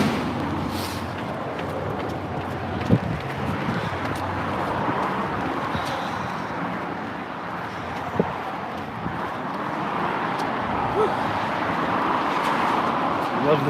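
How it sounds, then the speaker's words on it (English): Steady traffic noise on a road in Japan, a broad continuous wash of passing cars with occasional sharp knocks, heard from the roadside by a runner; talk is faintly present at times. "I don't like the car noise"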